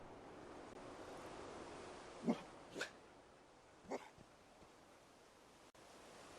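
The dog companion in Fallout 4 gives a few short, faint barks and yelps, spaced apart over quiet game ambience.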